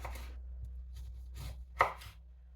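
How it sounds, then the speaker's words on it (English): Washed organic lemons being sliced thinly with a knife on a board, a handful of separate crisp cuts with quiet gaps between, close and fairly soft. "We give them a good wash and then we slice them up thinly"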